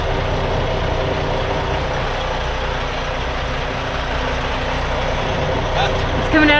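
A truck's APU engine running during a roadside fix for a radiator hose leak, a loud, steady, close idling drone that continues unbroken, with a brief rise near the end.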